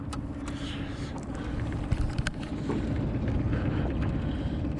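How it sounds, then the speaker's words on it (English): A 2022 Mercury Pro Kicker 9.9 EFI outboard motor runs at slow trolling speed on a boat, a steady low engine drone mixed with wind buffeting and water wash, fairly loud and continuous. "we'll see how slow we can go for like kokanee anglers and stuff"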